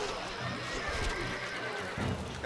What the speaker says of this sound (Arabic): خيولنا جاهزة.